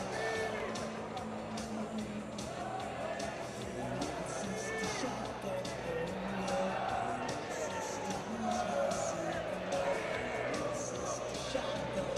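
Steady crowd noise fills a basketball arena during a tense late-game stretch of a Club Nacional versus Halcones de Xalapa quarter-final, a continuous roar with murmur and shouts under a commentator's voice.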